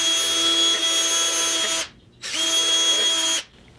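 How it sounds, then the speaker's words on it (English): A power drill runs a bit up and down through a hole while fitting front bumper supports on a 1973 Triumph TR6, two loud, steady whining bursts separated by a brief pause. "I just run the drill bit up and down"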